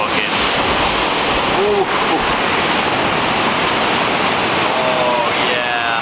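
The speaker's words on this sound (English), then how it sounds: "These swells are enormous still." Huge ocean swells crash and splash around the Queen Mary 2 during a gale, a continuous loud roar of surf and wind. A person gives a brief exclamation.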